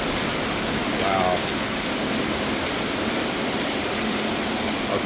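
Rain pours at night outside a condo, a steady, heavy hiss of drops on surfaces that continues without pause, with only faint background sounds.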